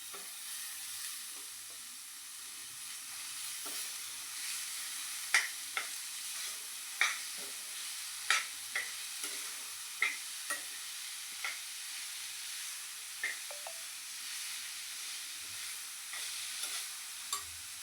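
Cabbage being added bit by bit to softened tomato in a pan and stirred: a steady low sizzle with regular sharp scrapes of a spatula against the pan, moderately close, no talk.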